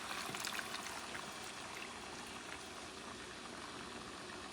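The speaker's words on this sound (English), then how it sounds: "And now you're going to add either chicken stock or water." Chicken stock being poured into a pot of Puerto Rican chicken wing stew with potatoes, a steady bubbling liquid rush running throughout at moderate level with no talk.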